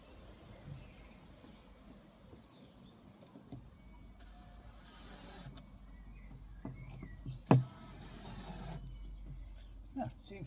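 A power screwdriver drives a screw during a garden beer barrel and tyre project, with faint intermittent whirring bursts, small clicks and one sharp knock against quiet background noise.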